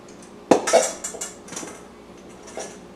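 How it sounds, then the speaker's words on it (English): Utensils clink and scrape against a large bowl while all-purpose flour is mixed for blueberry muffins, a sharp knock followed by several lighter clatters and taps, close and fairly loud, no voices. "in a large bowl, we're going to mix 4 cups of all-purpose flour"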